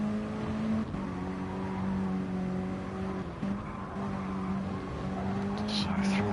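A Mini Cooper race car in a racing video game, driving around the Dragon Trail Gardens circuit on medium tyres: a steady droning engine note with shifting pitch, held throughout at moderate level, with a commentator talking over it.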